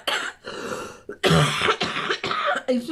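A short series of harsh morning coughs and throat clearing, close up and fairly loud, with brief pauses between bursts.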